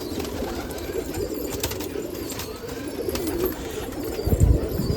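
Breeding pigeons at a Nashik pigeon festival coo low and steadily under a constant dense wash of crowd and outdoor noise, with a louder thump near the end.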